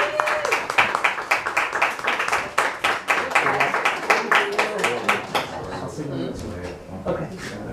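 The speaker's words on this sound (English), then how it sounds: "give her a round of applause for that" A live audience applauds poet Cati Porter at a poetry salon, brisk claps rising together, then thinning and fading out toward the end, with voices heard among them.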